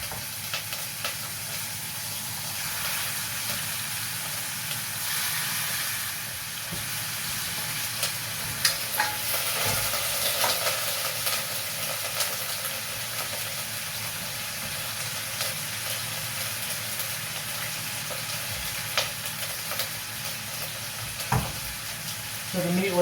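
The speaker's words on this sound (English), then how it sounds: "we're just gonna brown that on all sides" Beef browning in a pan with garlic powder, a continuous moderate sizzle with occasional scraping and stirring of the meat, fairly close.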